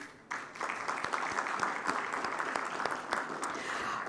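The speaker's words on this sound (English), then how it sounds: "Let's give them a round of applause, please." After a sudden start, a conference audience at an aviation stakeholders convention breaks into a steady round of applause for the sponsors, dense overlapping claps sustained at an even level throughout.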